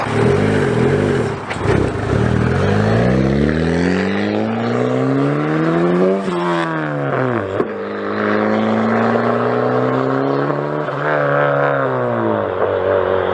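A turbocharged Honda Prelude engine revs up from idle, heard from outside, its rising whine climbing and wavering through several throttle blips, loud and close, with no talking.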